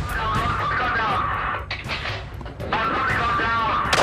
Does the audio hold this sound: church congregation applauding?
no